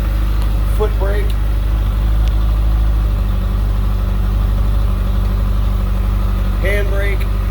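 A 2013 Kawasaki ZX14 motorcycle idles loud and steady with a deep, even engine drone throughout, while a voice speaks briefly at the start and again near the end.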